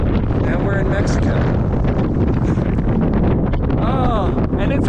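Strong wind on the Arizona Trail near the Mexican border buffets the microphone in constant roaring gusts, with brief voices faintly audible beneath the rumble.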